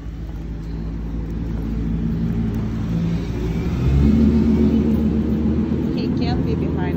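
Cars pass close by on a road beside a walking dog, a low engine rumble building and swelling to a near, louder pass midway before fading, with faint distant sounds afterward.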